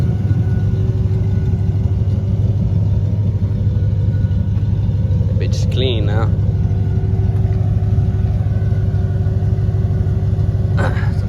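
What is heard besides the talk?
Chevy project truck engine rumbling while driving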